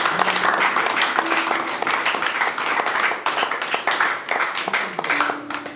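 A church congregation bursts into sustained applause and clapping to acclaim Jesus during a worship service, loud and dense, with voices mixed in under the clapping.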